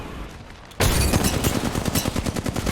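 Apex Legends gunfire during a competitive match: after a short quiet start, a sudden loud burst of rapid, evenly spaced shots rattles on continuously, close and alone.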